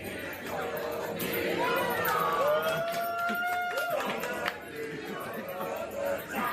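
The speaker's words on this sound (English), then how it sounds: "That's the crowd." A crowd recording played back through speakers, heard as a steady roar of many voices with shouted, sustained cries rising over it, fairly loud and continuous throughout.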